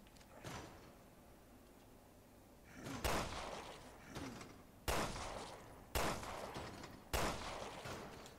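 Gunfire in the video game Resident Evil Revelations 2: four sharp, loud shots ring out at irregular intervals, each with a short decaying tail, over a low, murky in-game ambience.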